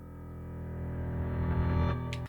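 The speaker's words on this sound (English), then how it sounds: "I went into the low reverse piano folder and I found the E chord, and that's what you're hearing there" A low reversed piano E chord swells steadily louder as a riser for a wedding teaser, dense and rumbling with a smeared harmonic wash, then cuts off abruptly just after a brief airy flutter near the end.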